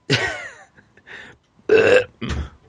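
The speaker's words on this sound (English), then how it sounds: "You started talking there just in time to muffle a burp." A person lets out a loud, wet burp in a few separate bursts, close to the microphone, with no other sound around it.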